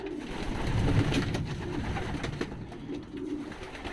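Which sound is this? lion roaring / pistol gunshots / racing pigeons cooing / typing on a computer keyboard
racing pigeons cooing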